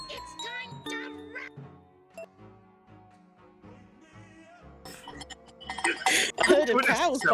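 Bells ring with a steady, clear chime early on, then fade under talking voices as a busier, clattering mix builds toward the end.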